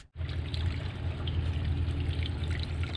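Water pours steadily into the cooling system of an LS engine during a cam sprocket swap, a continuous close, loud gushing stream with a low rumble, running alone for about three seconds after a brief quiet start.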